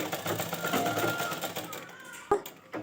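Sewing machine stitching ghagra panels (kali) for a Rajputi poshak, a steady fast mechanical whir running close and continuous, ending with a couple of sharp clunks.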